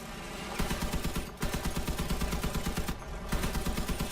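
Machine guns fire in the Crossout vehicle combat game: dense, rapid bursts of gunfire chatter on without letup, broken by two brief pauses, loud and busy throughout.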